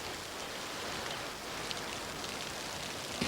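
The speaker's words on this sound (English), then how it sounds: "Now the rain's running off my hair and keeping the cake dry." Short rain shower falling outdoors, a dense, even hiss of raindrops spread across the whole moment at moderate volume with no voices.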